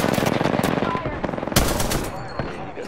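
Automatic weapons fire in rapid bursts during an Apex Legends match, loud and close with fast rhythmic cracks, then a heavier impact and scattered shots trailing off.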